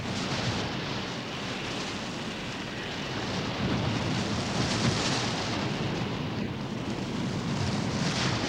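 Summer gale wind at sea aboard the research ship Calypso, pushing through choppy water: a steady, loud broadband roar of wind buffeting the microphone with rushing sea noise underneath, unbroken throughout.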